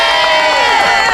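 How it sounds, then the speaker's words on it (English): A crowd at a city hall community event cheers and whoops, a loud, continuous wash of voices with scattered high shouts filling the whole moment. "Can she get a huge round of applause?"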